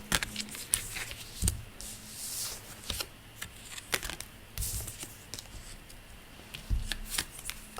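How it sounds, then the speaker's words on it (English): Tarot cards are shuffled and drawn in repeated crisp riffling bursts and papery slides. The sounds are close and intermittent with short pauses between them, and no talk. "Just going to get another roughly 5 cards out"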